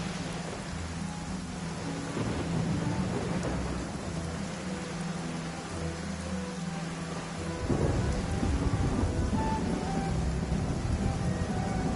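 Rain pours and thunder rumbles through a thunderstorm in the video game Genshin Impact, a continuous dense wash with a stronger roll of thunder partway through, no talk.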